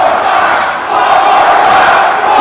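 Fans at a CZW cage match for the tag team titles roar and cheer in a loud, sustained crowd wash that holds steady throughout.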